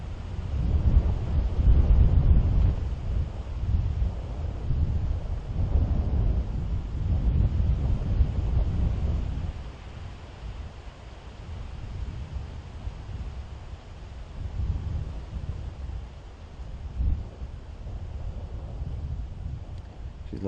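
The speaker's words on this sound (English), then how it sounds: "A lot of wind at the moment, folks, where we are in this open area." Strong wind buffets the microphone in an open area during a morning safari drive, a loud continuous rumbling roar that eases somewhat halfway through but keeps gusting throughout.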